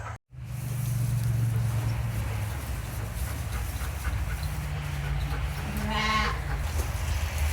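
A sheep herd being moved into a sheep shed, with a dense, loud, continuous wash of overlapping bleats and farm noise and a brief dropout at the start.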